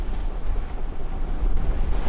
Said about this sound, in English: Where there used to be fishermen, there was now crashing waves that looked pretty surfable